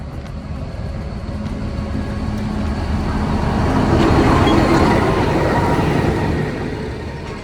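Train passing through the Nilgiri mountains in India, a steady broadband rumble that swells toward the middle and stays loud and close, with no voices.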